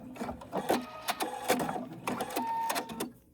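A sewing machine stitches in short bursts, stopping and restarting as it backstitches to lock the seam, with a whirring mechanical rattle heard close up and no talking.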